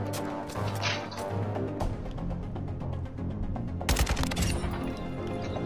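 Rapid gunfire crackles through a round of Call of Duty Warzone, a dense string of sharp shots in quick succession with a heavier burst toward the end, loud and continuous.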